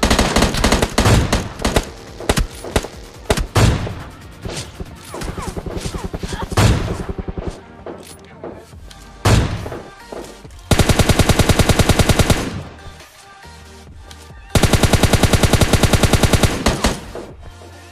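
Bursts of automatic gunfire crack from the PUBG Mobile Lite video game, with dense rapid volleys, two long sustained sprays and scattered single shots, all loud and close, mixed with game sounds.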